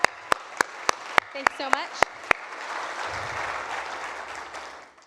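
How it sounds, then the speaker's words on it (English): Conference audience applause comes through as a run of about eight evenly spaced, sharp claps, followed by a voice speaking briefly over a soft room murmur. "Give them a round of applause."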